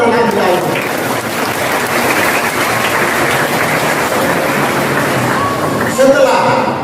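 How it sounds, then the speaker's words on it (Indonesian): A church congregation at an Easter Sunday morning Mass applauds a child with a steady, sustained patter of many hands that fills the room evenly from start to finish. "Sekali lagi tepuk tangan dengan anak kita itu."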